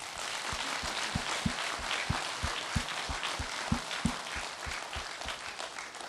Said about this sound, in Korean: 우리 하나님께 크게 영광의 박수 한번 드려요.